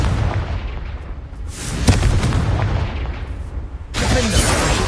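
Confringo fire spell blasts in Hogwarts Legacy combat, heavy rumbling booms with a sharp hit near two seconds and a fresh loud burst near four seconds, filling the background.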